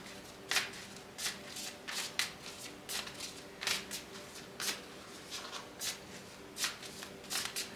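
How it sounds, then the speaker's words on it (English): Tarot cards are shuffled by hand at close range, giving a quiet, uneven series of crisp riffling and snapping bursts. The pauses between bursts vary and no one speaks. "to shuffle the cards"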